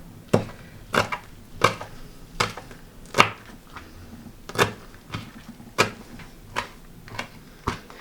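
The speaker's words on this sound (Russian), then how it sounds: "А сейчас мы нарезаем базилик." Sharp, rhythmic knife chops on a cutting board, slicing purple basil, roughly a dozen quick strikes at an uneven pace, close and clear with no talking.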